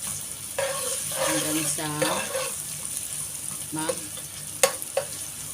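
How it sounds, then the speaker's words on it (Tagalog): Onions sizzle and fry in a pan as they are stirred until browning for a bitter melon (ampalaya) dish, with steady frying hiss, occasional scraping and a person talking over it. "Pinaikot-ikot ang sibuyas hanggang mag-brown."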